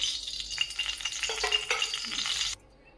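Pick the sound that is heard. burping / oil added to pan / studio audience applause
oil added to pan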